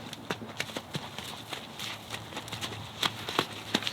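Hooves clip-clop in uneven bursts as horses lunge and play together loose, thudding steps scattered at close to moderate distance over a steady background hiss.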